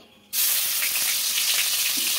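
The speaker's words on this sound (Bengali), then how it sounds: "একটু হালকা করে ভেজে নেব" A sudden loud sizzle bursts in as onion paste hits hot ghee, then a steady bright hiss of frying continues.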